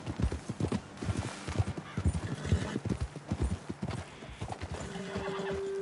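Horses in Red Dead Redemption 2: a run of close, rhythmic hoof clip-clops that slows and fades, followed by a drawn-out whinny near the end.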